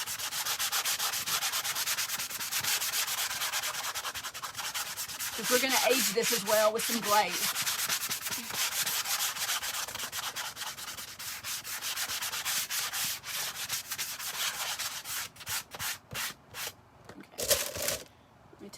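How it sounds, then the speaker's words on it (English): Steady rhythmic rubbing of a sanding block across a surface, close and continuous, with a brief spoken remark partway through and slower strokes near the end. "I'm going to use my sanding block, and I'm going to give this just a really light sand"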